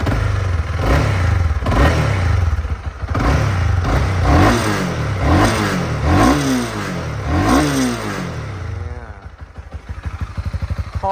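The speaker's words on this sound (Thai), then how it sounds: "มาเร่งเครื่องยนต์กันนะครับ ฟังเสียงเครื่องยนต์ครับ" A 2018 Honda CB300R motorcycle engine, with about 18,000 km on it, is revved repeatedly in rising and falling bursts close by, then drops back to a rough idle.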